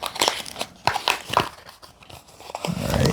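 Sealed packaging for an Apple Watch charging cable is torn and opened, giving close crinkling, rustling and tearing sounds in quick bursts.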